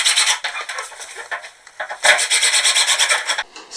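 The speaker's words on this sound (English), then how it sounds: "Basically just put it on with a rag. Let the wood soak up quite a bit, and then just start using long strokes" A rag wipes General Finishes Armor Seal wiping varnish onto wooden twin bed parts in long strokes, a close, repeated rasping rub that pauses briefly and then resumes in steady passes.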